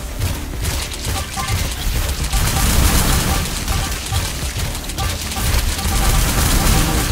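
Dense, continuous gunfire and explosions in the autobattler horde game Survivors of the Dawn, a loud crackling barrage of overlapping shots and booms that never lets up.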